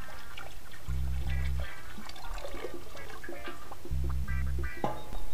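Water being poured into a brew pot at the start of an all-grain brew-in-a-bag homebrew batch, 7.5 gallons going in; a steady close splashing and gurgling wash runs throughout, with two short low mechanical hums breaking in partway.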